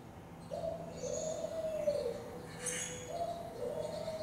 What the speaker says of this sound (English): This guy sings a hip, hipperoo, hip, hipperoo